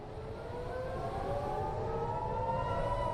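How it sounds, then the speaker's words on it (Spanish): Wailing civil defense air raid sirens in northern Israel rise and hold steady, several overlapping tones sounding continuously at a distance with a low rumble underneath. "con el de las sirenas, ese sonido tan característico"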